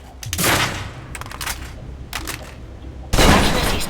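Gunshots fired from cover in Alpha Protocol, a series of sharp, loud cracks spaced irregularly with short echoing tails, a final shot especially strong, no talking.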